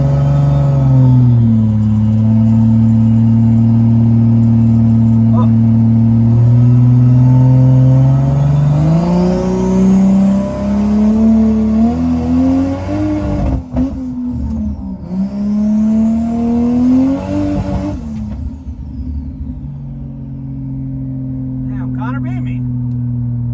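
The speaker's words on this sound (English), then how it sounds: "this is the next pass, and this is where we realize the car is not acting right" A drag car makes a pass with its engine running lean from a fuel-system fault, a loud roaring engine that revs, shifts pitch and surges with wavering tone before dropping back to a steadier drone.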